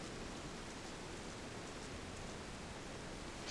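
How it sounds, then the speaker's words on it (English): A video game's spa area gives off a soft, even wash of white noise, a faint steady hiss like light rain that runs unchanged with no voices. "so you can hear the white noise and everything"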